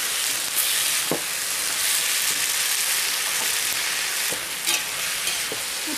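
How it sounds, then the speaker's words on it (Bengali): Mixed vegetables tipped into a wok of hot mustard oil tempered with five-spice seeds: a loud, continuous close-up sizzle with occasional clicks and scrapes of stirring. "ফোড়নটা হয়ে গেছে এবার আমি সবজিগুলোকে দিয়ে দিচ্ছি"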